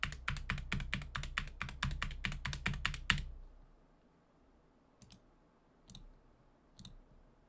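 A computer keyboard clacks in a fast, loud run of keystrokes for about three seconds, then falls silent apart from a few isolated taps afterward.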